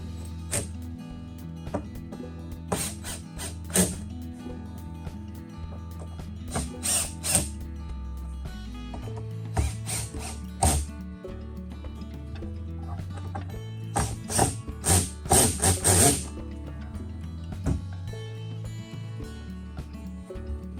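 A cordless drill's clutch slips at its lowest torque setting while driving a screw on a Bass Tracker boat ignition switch, giving bursts of rapid ratcheting clicks over a low motor whir, repeated several times.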